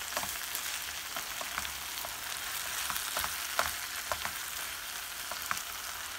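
Holy basil leaves stir-frying in oil give a steady, fairly quiet sizzle with soft crackles and occasional stirring taps throughout, without any talk.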